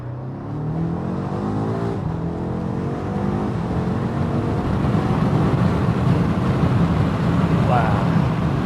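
A BMW M8 Competition accelerates hard through its gears, with a loud, steady engine roar and rising harmonic tones that climb and reset with each shift over about nine seconds, close to the microphone inside the car.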